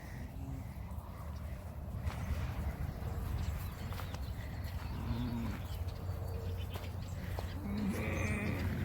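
Sheep and goats bleating in short calls at a moderate distance, with birds chirping and a low background hum.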